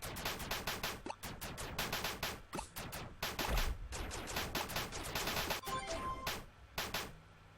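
Repeated magic attacks spammed rapidly in a video game with unlimited mana, a dense run of sharp, punchy blasts and bursts firing in quick succession, loud and continuous with brief gaps.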